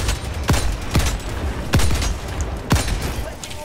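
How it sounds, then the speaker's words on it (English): A walking barrage artillery strike in Helldivers 2 against Automatons sends four heavy impacts booming at roughly even intervals, each a sharp thud with a deep rumble, amid continuous battle noise. "Walking barrage going through it"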